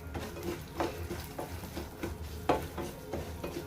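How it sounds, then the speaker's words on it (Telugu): Raisins, almonds, cashews, walnuts and pistachios fry in a pan for rava laddu, giving a soft sizzle under intermittent stirring scrapes and light clinks from the pan, close and moderately quiet. "కిస్మిస్ బాదం జీడిపప్పు వాల్నట్స్ పిస్తా ఇవన్నీ వేసుకొని ఫ్రై చేసుకుంటున్నాను"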